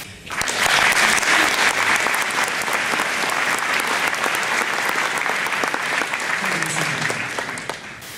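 Sustained, loud applause from the audience at a 2010 Calgary mayoral candidate forum, a dense wash of many hands clapping that holds steady for several seconds before easing off at the end.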